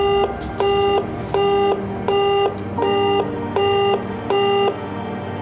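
A telephone busy tone on a call to a number in England, a loud electronic beep repeating in an even on-off rhythm about seven times over a steady background hum, with no talk.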